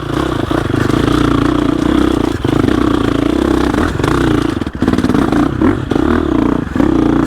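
A 2021 GasGas EX 350F dirt bike runs loud and close through a tough off-road section, its engine droning steadily with brief dips and blips of throttle and clattering over rough ground.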